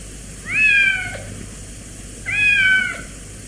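A cat meows twice, about two seconds apart. Both calls are clear and fairly close over a steady low background hum.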